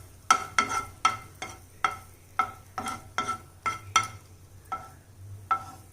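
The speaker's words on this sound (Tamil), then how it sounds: "இப்போ நல்லா பெருங்காயம் பொரிஞ்சிருச்சு." Asafoetida frying in hot oil for a dry coconut chilli powder, with a faint sizzle beneath a quick run of about a dozen ringing clinks and scrapes as a spoon stirs the pan.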